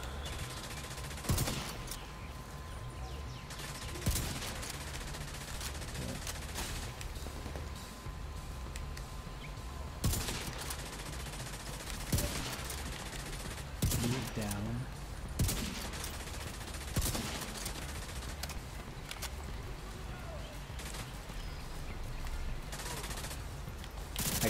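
Gunfire from the video game The Division 2, with bursts and volleys of shots recurring across the clip under constant dense combat noise, the sharpest cracks landing at intervals amid a loud, busy firefight.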